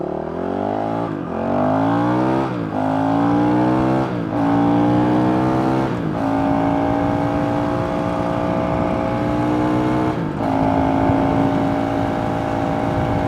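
A Honda CRF 450 RL motorcycle accelerates hard on an uphill road, its engine note climbing steeply through several gear changes with brief dips between shifts, then holding a steady high drone, loud and close throughout.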